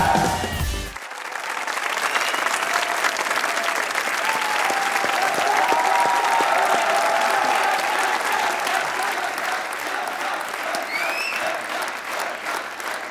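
A studio audience on a Pakistani talk show applauds arriving guests, a cricketer and his wife, with sustained, dense clapping that holds steady for about twelve seconds after a brief start.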